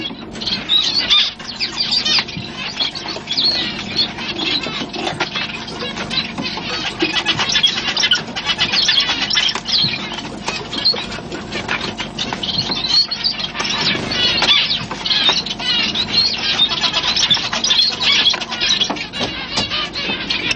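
Day-old chocolate and white finch chicks give a dense, continuous chorus of thin high cheeping and rasping calls, close and loud throughout on a worn recording, with no talking.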